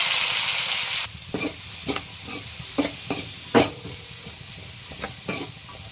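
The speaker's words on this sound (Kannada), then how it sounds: "ಇದು ಇವಾಗ ಚೆನ್ನಾಗಿ ಫ್ರೈ ಆಗಲಿ." Finely chopped onions fry in about three spoons of hot oil in a pan, a steady close sizzle broken by repeated scraping stirs and soft clinks of a spoon against the pan.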